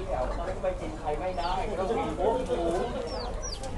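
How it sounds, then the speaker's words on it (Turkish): Pigeons coo and murmur close by in a steady, overlapping chorus, with a few brief higher chirps cutting through. "Arkadaşlar bakın bunlar da güvercinler."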